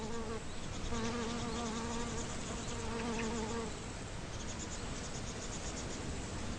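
Bees hum near water hyacinth flowers, a steady buzzing drone with wingbeats shifting in pitch as insects move around, and no voices.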